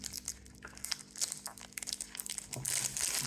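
Plastic wrapper of a Darrell Lea chocolate bar crinkles and crackles up close as it is opened from the side, with irregular quiet rustles building to a denser tearing crinkle at the end.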